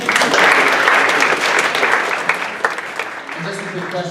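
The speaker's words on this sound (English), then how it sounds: "Applause, please" Applause at a creative-community event rises strongly right away, holds as dense clapping, then fades into scattered claps while a speaker's voice returns near the end.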